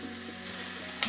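Chopped onion sizzling in hot oil for a Portuguese-style fish soup, a steady close hiss of frying with a brief louder spatter near the end.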